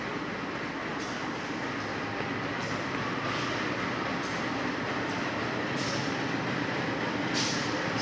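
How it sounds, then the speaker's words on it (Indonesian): The Blambangan Express passenger train, hauled by a CC 203 locomotive, rolls into a station on track 1. It makes a steady, heavy rumble of wheels and carriages with occasional hissing bursts, close and continuous, without talk. "Pelangsiran kereta api Blambangan Express teman-teman, masuk jalur 1 pada pukul 15 lebih"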